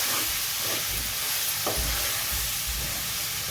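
Capsicum frying in a pan with chili powder, cumin and coriander powder, giving a steady close sizzle with stirring scrapes throughout.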